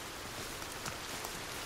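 Steady rain in the video game Sons of the Forest, a dense even hiss with scattered small drops, fairly faint and without any voices.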